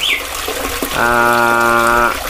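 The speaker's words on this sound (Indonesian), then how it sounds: "Air terjun yang saya punya di apiari ini" Small waterfall pouring steadily close by, a continuous splashing rush, with a brief tonal squeak partway through.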